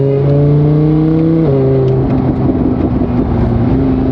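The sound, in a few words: Lamborghini with straight-piped exhaust revving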